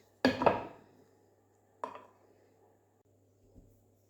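Medium-sized plums being halved and pitted on a kitchen surface, heard as two sharp knife-and-board knocks close by, the first a double clack, the second single, with a faint tap near the end and no talking.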